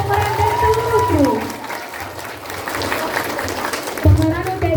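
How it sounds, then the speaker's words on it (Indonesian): Audience at a school theatre performance applauding the cast and crew, steady clapping with some cheering, heard under and around a person talking nearby. "Mari kita berikan tepuk tangan yang meriah untuk para pemeran dan seluruh kru."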